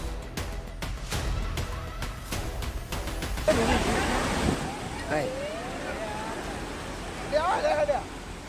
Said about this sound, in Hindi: नदी उफान पर है।